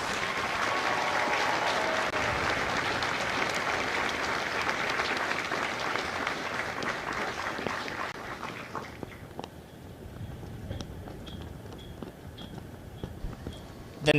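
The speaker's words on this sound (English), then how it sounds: "please join me in a round of applause for the company staff of Company D." A crowd at a Marine Corps recruit graduation ceremony at MCRD San Diego applauds the company staff, with loud, sustained clapping that thins after several seconds into scattered claps and a few sharp individual hits.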